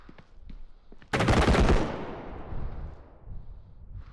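Video-game gunfire in a bodycam-style shooter duel: a sudden loud burst of rapid automatic shots, preceded by a few faint single pops, then trailing into a reverberant decay and low rumble.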